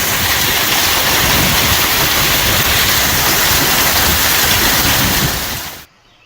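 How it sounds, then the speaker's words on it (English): Dense, steady hiss of hail pelting surfaces, loud and continuous, then cutting off abruptly near the end. "I think it's hailing. It is. It's hailing."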